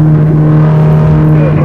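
Ferrari 458 Italia Oakley Design on a fast test drive, its engine a loud, steady, strained tone close by with a rising whine, no talk over it.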